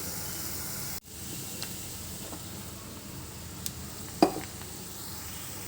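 Rice flour being stirred into a pot of boiling water: a steady bubbling hiss that drops in level after a second, with a couple of sharp utensil clinks near the end.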